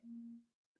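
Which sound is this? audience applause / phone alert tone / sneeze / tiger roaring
phone alert tone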